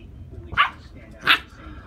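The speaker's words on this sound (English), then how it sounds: "What are you barking at?" A puppy gives two sharp, close barks about three-quarters of a second apart, loud against a quiet room.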